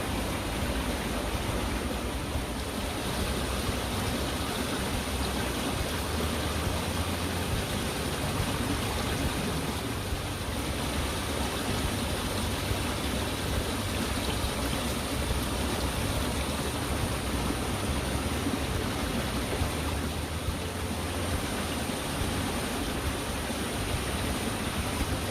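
Steady, loud rushing water in a rural irrigation channel, a continuous broadband roar filling the whole stretch with no pauses and no voices.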